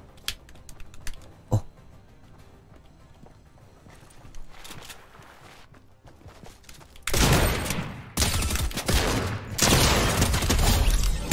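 Weapon gunfire in Fortnite bursts out loud and sustained after a quieter stretch of scattered clicks and soft game noises, filling the second half with dense, continuous shooting.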